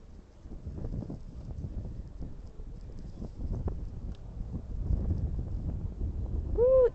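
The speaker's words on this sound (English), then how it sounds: "Ooh, it's windy." Wind gusts buffet the microphone on a wintery beach at Whitstable in Kent, a steady low roar that swells and rumbles throughout, with a brief tonal chirp near the end and no clear talk.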